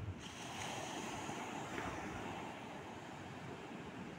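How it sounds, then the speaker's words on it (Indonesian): Sea waves of the Java Sea breaking on a beach at Pantai Pelangi, a rather rough surf heard as a continuous faint wash and rumble, mixed with wind buffeting the microphone, with no voices. "melihat luasnya laut Jawa ini yang saat ini ombaknya sedang agak besar"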